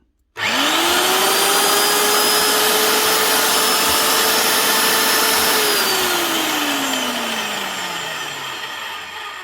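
An old Evolution BOARA2800 magnetic drill, stored for years and just repaired, has its motor switch on abruptly, whir steadily at full speed with a loud vacuum-like hum for about five seconds, then wind down gradually as it coasts to a stop.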